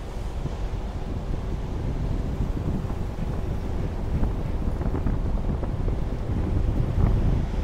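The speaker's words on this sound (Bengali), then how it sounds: "বাইরে আসলে এত পরিমাণ বাতাস যে আসলে কথা বলার মতো পরিস্থিতি নাই।" Strong wind buffets the microphone aboard a ship crossing a rough, choppy Red Sea, a steady loud broadband roar with low rumbling gusts and the wash of waves beneath, no voices.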